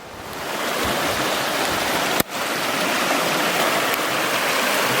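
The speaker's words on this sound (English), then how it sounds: "The river's running just beside me, or brook, whatever it is" A river or brook running beside a backcountry campsite at Tangier Grand Lake, a loud, steady broadband rush of flowing water, interrupted once by a brief click.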